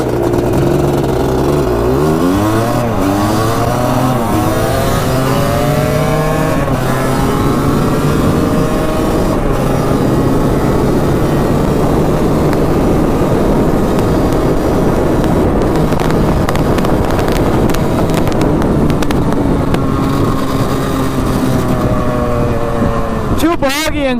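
Two 250cc two-stroke quads, a Kawasaki Tecate and a Suzuki Quadracer, scream loudly up through the gears in rising, wavering sweeps of engine pitch. Heavy wind buffets the microphone throughout.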